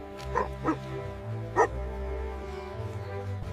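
A dog gives three or four short, close barks spread over a few seconds, against a steady background hum.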